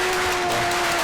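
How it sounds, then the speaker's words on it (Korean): Brief applause from an audience at a National Assembly forum on school health teachers, welcoming a speaker; a dense wash of clapping with a faint steady tone running beneath it. "우리 박수로 맞이하겠습니다"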